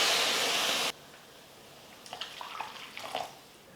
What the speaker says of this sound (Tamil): இப்போ இந்த வெள்ளை கரைசலை சேர்த்துக்கிறேன்.